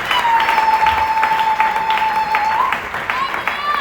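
Church congregation at a French-language Pentecostal sermon breaks into loud, sustained applause and cheering close by, with a steady high whistle-like tone and raised voices riding over the clapping throughout.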